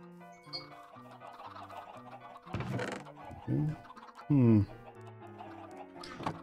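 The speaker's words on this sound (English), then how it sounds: "Let's check on the chickens while we wait for that." Chickens cluck in Minecraft 1.14 survival mode, with several short clucks and squawks breaking through a steady background music bed, the loudest coming near the end.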